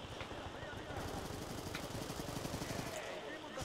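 Gunfire in the video game Call of Duty Black Ops II, a sustained rapid burst of automatic weapon fire dense and loud throughout, with someone talking over it.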